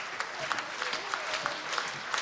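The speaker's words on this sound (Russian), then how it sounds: "Продолжаем одаривать наших конкурсантов подарками и аплодисментами." An audience at a regional music festival claps steadily for a guitar contestant, a dense continuous patter of hands with a few sharper claps, moderately loud and without speech.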